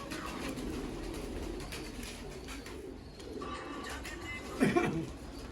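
Soft, low cooing of Teddy pigeons kept in a loft, over a dull background murmur, ending in a slightly louder burst of coos nearby.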